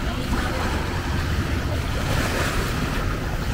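Waves break on the shore at Iligan Beach on Boracay with a dense, continuous roar of surf and heavy wind buffeting the microphone, loud and close throughout.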